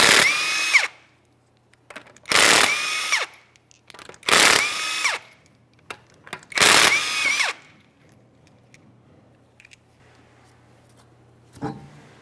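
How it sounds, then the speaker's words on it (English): An impact wrench on a 2015-2019 Subaru Outback rear wheel zips off lug nuts in four loud, separate bursts, each whine sharply rising and falling, with quiet pauses between and a faint click near the end. "Once it does lock in, we can remove that locking lug nut. Let's remove all other lug nuts."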